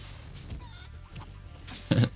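A chicken in the Spyro the Dragon video game clucks in a few brief, scattered calls over a faint game backdrop, ending with a louder, sharper squawk.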